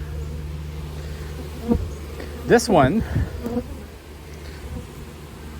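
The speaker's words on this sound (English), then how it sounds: "I didn't expect that many bees, and there's still a lot out." Close, steady buzzing of many honey bees around a hive, with a brief spoken voice cutting in partway through.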